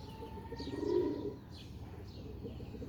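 Pigeons coo softly nearby in low, throaty bursts, with faint chirps and a quiet rustle of wings in the background.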